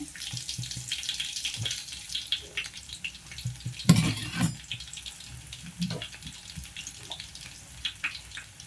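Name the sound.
crushed garlic cloves frying in hot oil for tempering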